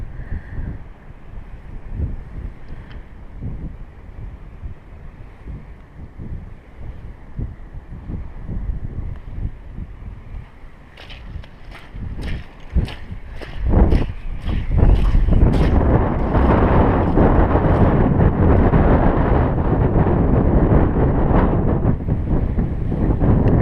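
Strong wind buffets the microphone on the Swale shore at Sittingbourne, Kent, rising from a low rumble to a loud, sustained roar with gusty bursts partway through.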